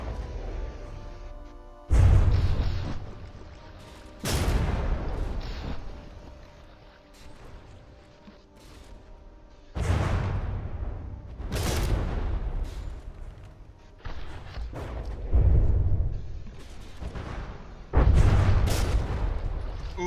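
Heavy artillery and turret fire from warships trading shots in a From the Depths tournament battle: repeated deep booms and blasts arrive every few seconds over a constant rumbling mechanical drone, with no talk.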